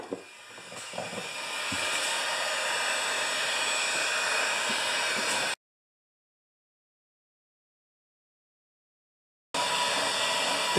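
Heat gun blowing hot air onto a part from a 29-year-old Rally electric-start mower, a steady broadband rushing hiss that runs for several seconds, cuts out completely, then resumes near and loud.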